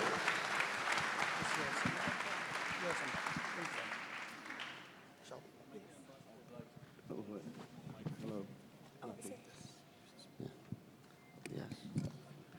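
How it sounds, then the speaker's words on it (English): Applause at a peace prize ceremony swells loudly for about five seconds and then cuts off, followed by scattered claps and someone speaking over a quieter hall. "Give him a round of applause."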